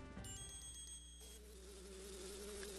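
A buzzing bee drones steadily in The Legend of Zelda: Majora's Mask, its tone sustained and wavering in pitch over a light game soundscape, with no talk.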